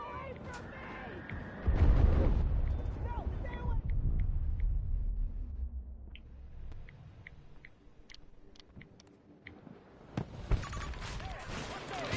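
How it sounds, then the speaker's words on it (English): A grenade explosion in a Battlefield video game: a deep, loud boom erupts early and rumbles away, followed by scattered shots, clinks and game voices speaking over the battle noise. "Throwing grenade."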